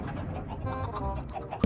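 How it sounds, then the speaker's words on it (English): Chickens in a video game cluck softly, a low, muffled, busy murmur of several birds clucking at once under a faint background hum, ending in a brief sharp tap. "Lots of chickens."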